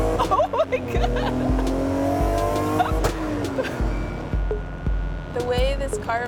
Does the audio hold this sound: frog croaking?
no